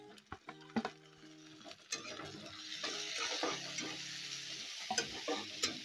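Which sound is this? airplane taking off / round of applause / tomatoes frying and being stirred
tomatoes frying and being stirred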